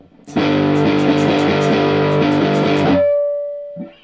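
A distorted electric guitar plays a slow, chugging rhythm figure of repeated chords for about three seconds, then one note rings out and fades.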